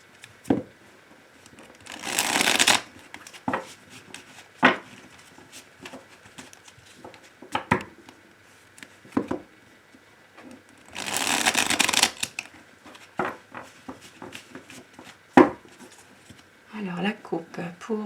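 Tarot cards are shuffled in two distinct bursts of riffling and flapping, close and clear. A person speaks softly between the bursts, with occasional light taps and handling noises.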